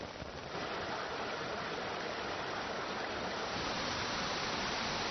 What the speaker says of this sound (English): So this is the waterfall, you see.